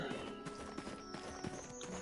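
Steady clip-clop of horse hooves in Black Desert Online, a regular walking rhythm close and clear, with a faint whinny and no talking over it.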